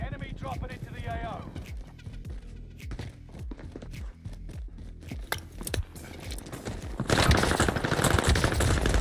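Gunfire in Call of Duty Warzone Pacific on the Caldera map during Plunder: sharp single shots and rapid bursts mixed with footsteps, building to a dense, louder barrage near the end.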